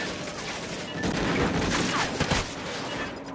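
Rapid submachine gun bursts in a competitive 2v2 first-person shooter bomb match, dense overlapping gunfire lasting the whole stretch, loudest through the middle, with no talk over it.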